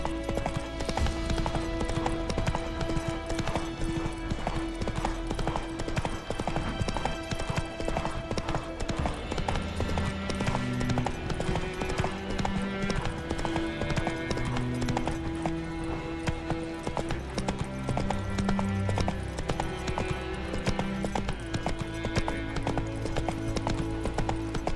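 Roach, a horse in a video game, gallops with steady, rapid clip-clop hoofbeats running continuously under a layer of game music, with an occasional whinny.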